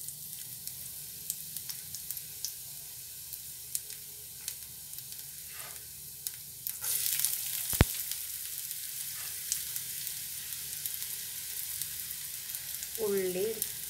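Garlic fries in hot oil, a faint continuous sizzle with light ticks and a few clatters, growing slightly busier partway through, heard up close with no speech.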